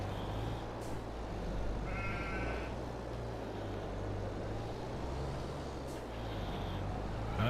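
Sheep in Farming Simulator 22, on the Western Wilds map, bleat twice in short, thin calls a few seconds apart. A low, steady vehicle engine hum runs underneath, and the whole scene is fairly quiet.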